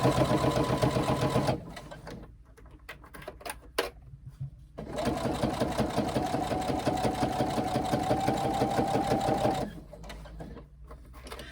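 A sewing machine stitches a carry-all tote bag in steady bursts of fast mechanical whirring, stopping and restarting with short quiet gaps between runs, close and alone.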